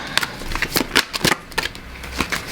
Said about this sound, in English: I'm going to just shuffle a bit more